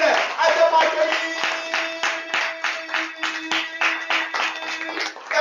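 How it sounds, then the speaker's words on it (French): An audience applauds a speaker at a Toastmasters club session, a fairly sparse run of individual claps with a sustained musical tone underneath, lasting several seconds. "Applaudissez, s'il vous plaît."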